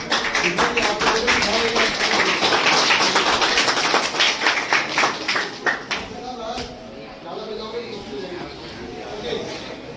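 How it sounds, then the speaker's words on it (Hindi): A teacher claps his hands in a classroom during a lesson on light reflection, a quick run of sharp claps near the start that thins out, with voices talking over and around them. "मैं ताली बजा रहा हूँ"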